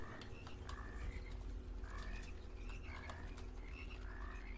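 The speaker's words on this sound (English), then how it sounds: "Anytime you hear frogs, you know there's going to be a lot of little annoying critters frogging themselves about." Frogs croak in a steady, repeating chorus of short rasping calls over a constant low hum, somewhat distant, in the video game Immortal Redneck.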